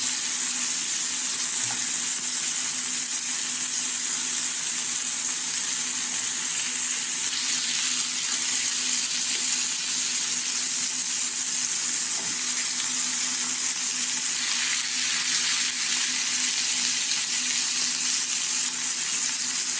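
Vegetables sizzling in a pan or on a griddle alongside LA-style street dogs, a steady loud hiss of frying that runs unbroken and close up, with no voices.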